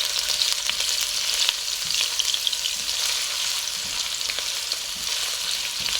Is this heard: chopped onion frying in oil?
yes